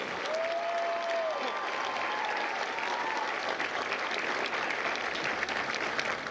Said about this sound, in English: please join me in a round of applause for the company staff of Bravo Company